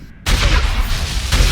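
A video game gun fires a double shot, a sudden loud burst that cuts in abruptly and rumbles with heavy low boom, followed by a second blast near the end.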